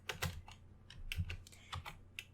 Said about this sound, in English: Let me just find it on my keyboard.